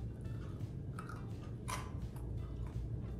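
Close crunching and chewing of a crispy coconut macaroon, a few irregular bites and crackles over a low steady background hum.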